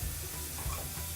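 Onions frying in a pan with tomato going in for ridge gourd chutney, giving a steady low sizzle with a brief stirring thump partway through.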